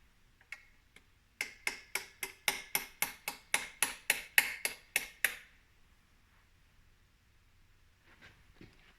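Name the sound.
tapping a transmission seal in with a 19mm deep socket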